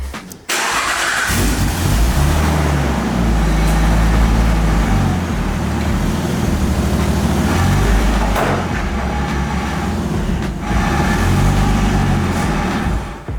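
A Nissan Laurel's engine starts, then idles and revs in loud bursts as the car is driven down off ramps, the engine note rising and falling close by with no talking.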